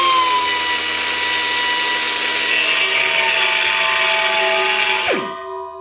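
A Harbor Freight Chief 4-inch extended cut-off tool grinds through thick metal with a loud, steady high-pitched whine, then spins down quickly once the trigger is released.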